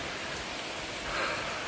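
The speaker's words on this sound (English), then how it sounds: "Started to rain pretty hard there for a second." Heavy rain falls steadily as heard from under the cover of a small cave along the Long Trail in Vermont, a continuous hiss of drops without other sounds.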